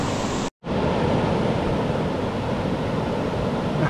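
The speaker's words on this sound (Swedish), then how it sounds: "Jag kan inte få nog av det här vattenfallet." A waterfall pours in a steady, loud rush of broadband water noise, heard up close and continuous apart from a brief cut near the start.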